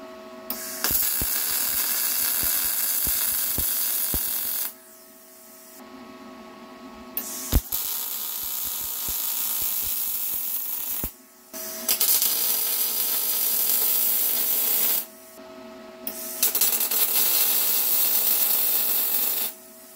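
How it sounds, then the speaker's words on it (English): Arc welder tack welding an angle iron box for a forge: three long buzzing, crackling bursts of several seconds each, separated by short pauses, loud and close. "let's get the welding gear on, and we'll tack this up"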